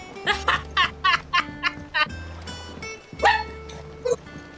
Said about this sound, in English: my dog wants to get out now